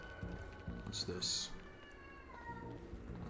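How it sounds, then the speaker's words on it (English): A house cat meows loudly and close up a couple of times in short, drawn-out cries, over background game sounds with voices nearby. "That's my cat making noise."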